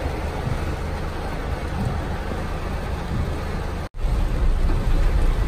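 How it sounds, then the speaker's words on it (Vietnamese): Heavy rain pours steadily and loudly on a rainy commute street in Japan, a dense continuous roar with a brief dropout near the end. "Hiện tại mưa thế này"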